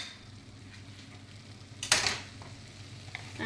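Spice powders are stirred into a tomato mixture frying in a pan, giving a sizzle with a sharp scrape or clatter at about two seconds.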